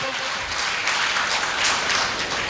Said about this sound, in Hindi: सबके लिए जोरदार तालियां होनी चाहिए